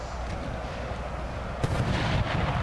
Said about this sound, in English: Oh, we're getting some good howitzer hits,